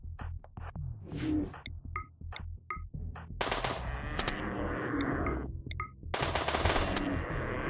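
Rapid bursts of gunfire from RimWorld ring out again and again, sharp automatic volleys mixed with single shots and game sound effects, loud and near, with no talking over them.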